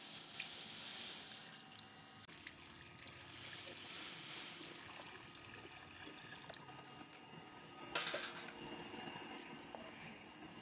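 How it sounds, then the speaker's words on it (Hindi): Water pours steadily into a cooking pot of browned mutton paya, a continuous soft splashing and trickling rush lasting several seconds, with a brief louder splash near the end. "अब हम इसमें पानी शामिल कर देते हैं।"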